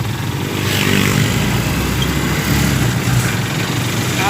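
A motorcycle engine runs close by with a loud, steady idle and slight swells in revs, a continuous throaty drone with no pauses.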